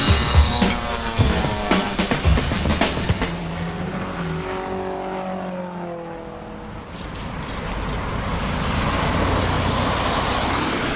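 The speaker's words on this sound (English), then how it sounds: "The sound of cars with internal combustion engines" Combustion-engine cars drive into Renfrewshire Recycling Centre, their engines rising and falling in pitch as one passes close by, then settling into a steady, loud rumble of traffic.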